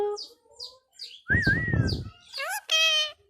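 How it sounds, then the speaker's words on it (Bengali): A pet parrot nearby gives a series of short, high chirps and whistles at intervals, with a voice briefly talking between them. "মিঠু দুষ্ট পাখি তুমি দুষ্ট পাখি তুমি"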